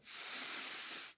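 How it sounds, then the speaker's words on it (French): A single slow, close breath, a soft airy exhale of about a second, heard alone in a quiet guided meditation. "Une respiration."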